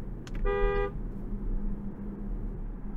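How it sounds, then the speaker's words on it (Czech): A single short honk from the horn of a 2021 Volvo V90 Cross Country B5, lasting about half a second, sounds over a steady low road and engine rumble. No one talks. "A jak zní klakson?"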